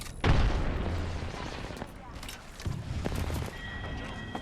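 Gunfire in the video game Apex Legends comes as a burst of loud, close booming shots at the start, followed by further scattered reports and game effects, with a game voice speaking over it.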